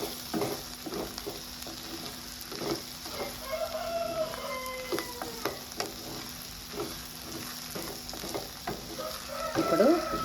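Ivy gourd (tindora) fries with chili powder in a pan, giving a constant close sizzle with scattered stirring knocks and a rooster crowing faintly in the background.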